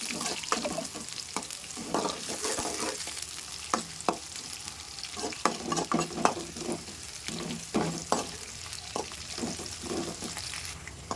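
Thinly sliced onion and three slit green chillies fry in a pan for biryani. A steady close sizzle runs throughout, broken by regular scraping stir strokes, with no voices.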